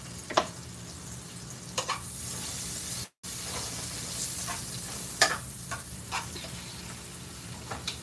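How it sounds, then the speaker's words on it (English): Fatback sizzling in a pan as it renders down, a steady bright hiss of frying fat with occasional pops and stirring clicks, close and continuous, with one momentary dropout. "I'm going to let the fat back cook down for a few minutes"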